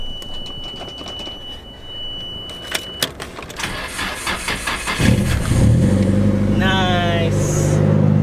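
Drift car, a Nissan Silvia, cranking and starting up: clicks and a jingle of keys, then the starter whirs and the engine catches into a loud, rough idle, close by, with people talking and exclaiming over it.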